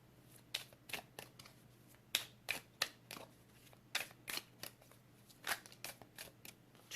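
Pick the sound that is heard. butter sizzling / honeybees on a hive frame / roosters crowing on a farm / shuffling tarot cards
shuffling tarot cards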